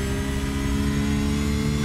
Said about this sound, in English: Brilliant noise from this Porsche as well. That straight six engine.